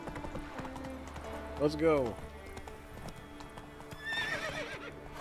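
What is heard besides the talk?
horse galloping in The Witcher 3 video game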